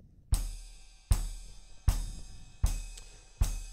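A drum kit plays an ostinato pattern with several limbs, sounding as five evenly spaced hits with a deep thump and a bright cymbal wash that rings and decays between strikes. The hits are close, clear and isolated.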